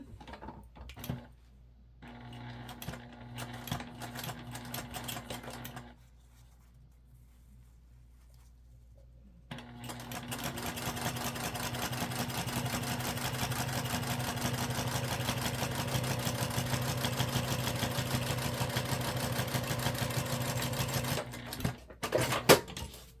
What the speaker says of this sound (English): sewed our zipper tape on one side